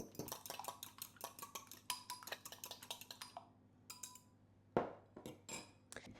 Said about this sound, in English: Beat this egg.